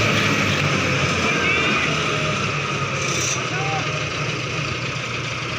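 A Mahindra Arjun 655 tractor engine idles with a steady, continuous diesel drone and rumble, close and unchanging throughout, while someone talks over it.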